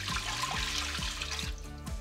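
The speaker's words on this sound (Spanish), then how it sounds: "vamos a poner aquí 2 tazas de agua" Water pours into an Instant Pot fitted with a steam rack, a soft, continuous splash and trickle with faint gurgling pulses, heard close and alone.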